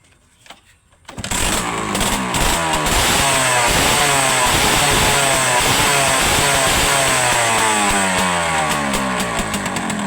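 After a brief quiet moment, a Honda Tena motorcycle engine with a freshly rebuilt clutch side fires up and runs loud and close, a continuous buzzing drone with a rough, revving edge, not running smoothly at first.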